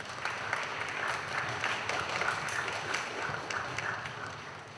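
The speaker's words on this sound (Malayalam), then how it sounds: "എല്ലാവരും കൈയടിക്കേണ്ടതാണ്." Sustained applause from a church congregation at a Christmas Mass trophy presentation, steady and dense throughout without a break.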